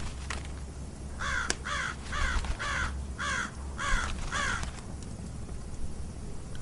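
A raven caws in a rhythmic series of about seven harsh, evenly spaced calls, fairly close and clear over a low, steady background rumble.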